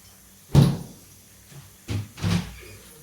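A refrigerator door in a home kitchen is pulled open with a sharp thump and rattle, followed a moment later by two softer knocks as it is handled again, close and with no talk.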